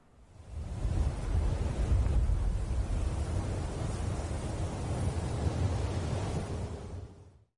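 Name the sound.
wind ambience in video game Unturned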